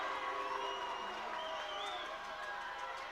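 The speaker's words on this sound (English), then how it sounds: "The crowd urging Scotland women on." A rugby crowd at a women's Six Nations match roars encouragement for Scotland's women, a distant, steady wash of cheering and whoops with faint whistles above it.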